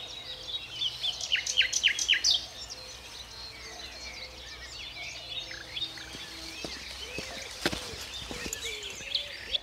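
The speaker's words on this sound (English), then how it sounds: "I'm just enjoying the sound of the birds." Several birds chirp and sing outdoors, with bright overlapping calls, a busier burst early on, then steadier twittering over a low background hum.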